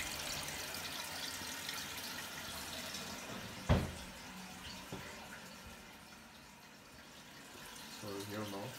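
Toilet tank refilling during a repair of a leaking toilet, a steady close rush of running water with a sharp clunk midway, while people talk over it.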